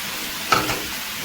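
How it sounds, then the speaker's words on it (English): Dried shrimp hit hot oil in a pan with a steady broadband sizzle, a brief louder burst as they are stirred, continuous and close. "the next step is for us to fry these shrimps"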